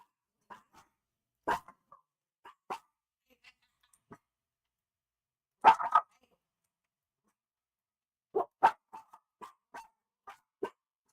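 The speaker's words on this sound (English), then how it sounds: "I'm sorry about the barking" Several dogs bark in sharp, scattered bursts, with a few single yips early on, a loud cluster in the middle, and a rapid run of barks near the end, set against an otherwise quiet room.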